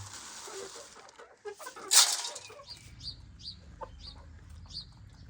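Hens scratch about a Pakistani village yard and give a run of soft, repeated clucks. A single louder flutter of wings comes just before them, and faint background noise runs throughout.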